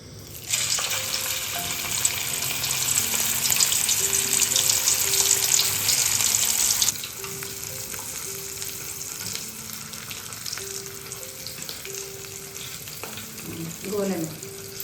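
Chicken leg pieces fry in a pan of hot oil with a loud, steady sizzle for the first seven seconds. The sound then drops to a quieter, continuous bubbling with faint clinks, and no one speaks.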